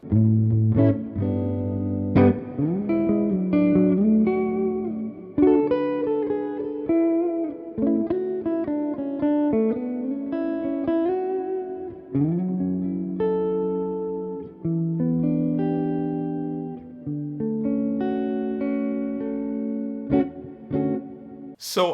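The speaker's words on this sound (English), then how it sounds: "And this is the sound of a tube amp." Electric guitar played through a tube amp, a sustained close passage of chords and single-note lines with a warm, slightly overdriven tone and short breaks between phrases.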